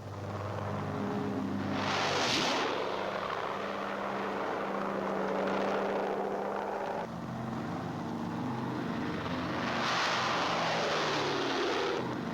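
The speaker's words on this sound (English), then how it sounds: "the first serials of C-47s follow on the invasion path." C-47 troop carrier aircraft in flight: a steady, loud piston-engine drone with a rich layered hum and slow swells in pitch, continuous throughout and without voices.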